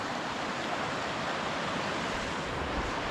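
Steady broadband rush of creek water flowing beside a winter campsite at Panther Creek in upstate New York, continuous and fairly close with no voices.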